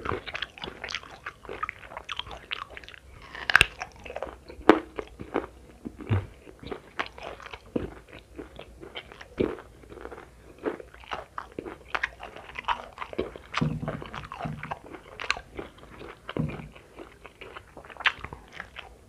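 Chewing green eggplant eaten with petai, salted fish and shrimp-paste sambal, close-up crunchy bites and wet mastication repeating in an irregular rhythm, alone without talk.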